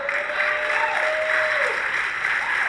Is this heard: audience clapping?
yes